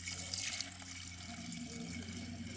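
Steady running water splashes and trickles into a Mercedes GT63s cooling system, a continuous liquid wash with a low mechanical hum underneath.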